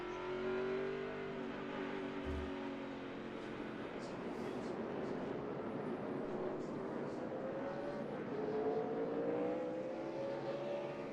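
NASCAR Cup cars circle the Loudon oval, their engines roaring continuously in a dense pack, a steady loud drone with rising and falling pitch as cars pass, under faint commentary.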